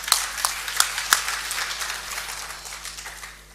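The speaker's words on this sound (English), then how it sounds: "Please give a round of applause." Scattered claps from a small audience at a realty market panel discussion, a few sharp hand claps up front that quickly thin out and fade, with no voices over them.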